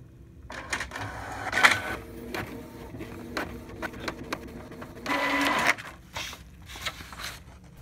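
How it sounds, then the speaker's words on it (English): A Canon or HP inkjet printer with a previously clogged printhead runs a check-pattern print, its carriage whirring and clattering in uneven bursts with brief pauses, fairly quiet and close, no talking. "Print a check pattern."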